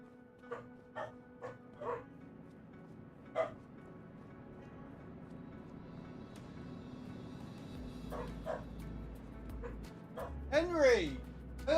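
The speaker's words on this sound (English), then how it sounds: "Barking at anything and everything they can find." Dogs in a Farming Simulator 25 game give a series of short, sharp barks and yips, some fairly close and some fainter, spread through the clip over a low steady background hum.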